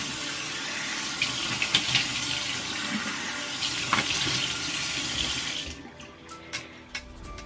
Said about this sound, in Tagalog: So, maghihilamos muna ako.